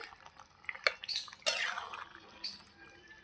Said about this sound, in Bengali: কি সুন্দর করে ফুটছে আস্তে আস্তে